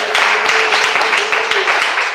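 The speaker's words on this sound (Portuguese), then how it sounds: "Pode bater palmas." Church congregation clapping hands together, a fairly close, steady patter of many hands with some rhythmic pulses, alone without talk.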